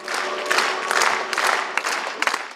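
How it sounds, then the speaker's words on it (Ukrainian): A concert hall audience gives an ovation to a philharmonic orchestra, loud sustained clapping from a large crowd with surging bursts and a roomy, reverberant sound. "Оваціями зустріли присутні і оркестр"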